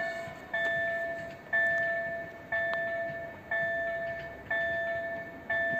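A repeating two-tone electronic warning signal pulses about once a second at Warszawa Reduta Ordona railway station, over a low rumble of an approaching train.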